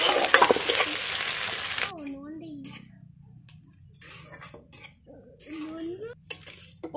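Chopped onion and chilli hit hot oil with a bay leaf at an outdoor winter picnic, giving a loud hissing sizzle for about two seconds that then settles to a faint crackle while a person talks over it.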